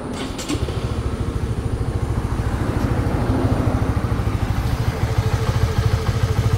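A Honda RS150 motorcycle kept in restored condition fires up and settles into a steady, loud, close engine rumble with an even rapid beat, no voices over it.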